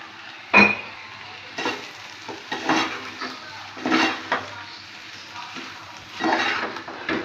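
Broad bean fry is stirred with salt, turmeric and chilli powder in a pan, making irregular scraping strokes and utensil knocks over a faint sizzle, with one sharp clank near the start.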